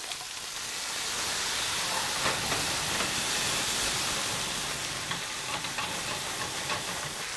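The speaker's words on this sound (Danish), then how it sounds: "Så starter vi lige en lille flambering i en lille smule rom." Curry chicken flambéed with a little rum in a hot pan, a loud, broad rushing hiss and sizzle swelling up within a second and holding steady, close by with no talk.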